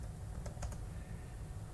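A computer keyboard being typed on, a few quick clicks over a low steady background hum, close and fairly faint with no voices.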